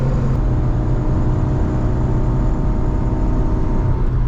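A continuous low engine drone from inside an accelerating Renault Megane Coupe, steady and loud, with a deep rumble throughout.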